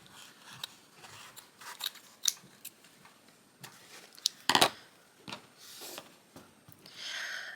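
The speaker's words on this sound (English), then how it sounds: "So I'm just going to cut out a chunk of that." Scissors snip through orange fabric up close in a series of irregular crisp cuts and rustles, with louder slicing strokes mixed with quieter handling of the cloth.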